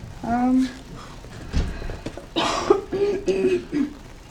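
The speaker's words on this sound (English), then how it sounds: "Coughing a lot." A few short throaty coughs and throat-clearing bursts from a sick person close to the mic, spread out in separate bursts with bits of voice between them.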